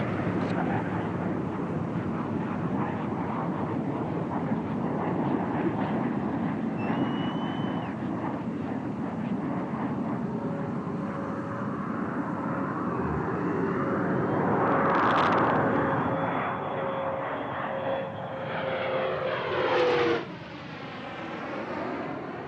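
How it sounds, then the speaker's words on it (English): Space Shuttle Discovery rolls out on runway 22 at Edwards Air Force Base, California, after landing: a loud, broad roaring rush that sweeps and shifts, with pitch sweeps near the end as it slows. "Discovery rolling out on runway 22 at Edwards Air Force Base, California"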